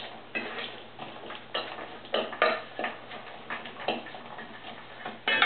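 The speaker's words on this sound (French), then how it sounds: "On mélange bien le tout." Chopped salad ingredients for a Caesar salad with ham and vegetables are tossed together in a bowl, with irregular light clicks and soft clatters of utensils against the dish close up.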